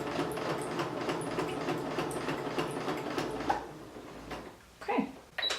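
Sewing machine running a straight stitch along a marked line on practice fabric, a steady close mechanical whir with rapid needle ticking, stopping near the end with a brief voice.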